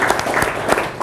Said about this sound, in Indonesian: Boleh tepuk tangannya buat Pak Samsudin.